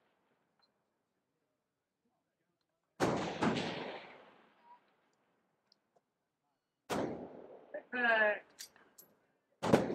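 Rifle shots at a precision rifle range, several sharp cracks with echoing tails, some rapid in pairs, spaced seconds apart, with a brief spoken word between them.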